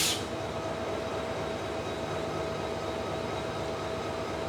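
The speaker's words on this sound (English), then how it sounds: "So this is the train we arrived on, the EST" The EST 203 train in Malaysia, a steady broadband rumble of the train running, even and continuous throughout with no voices.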